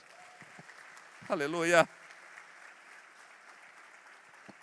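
A church congregation gives a short burst of applause mixed with voiced cheering, loud for about half a second, then a preacher resumes speaking.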